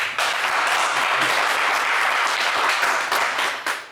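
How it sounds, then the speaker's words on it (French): Studio audience at a television game show bursts into steady, dense applause, loud and sustained for several seconds before tapering off at the end. "on vous applaudit"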